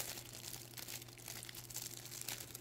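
A plastic pack of nail art stickers is crinkled and torn open, producing faint, close, irregular crackling and rustling that continues throughout with no talking.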